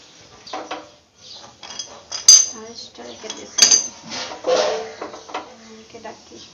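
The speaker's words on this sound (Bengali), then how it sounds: "দুধটা বসিয়ে দিচ্ছি চুলাতে কড়াইয়ে দিয়েছি ওকে দুধটা গরম করে নিচ্ছি" Metal cookware clanks and scrapes as a pan of milk is set down on a gas stove and handled, a few sharp clinks among the clatter, with someone talking.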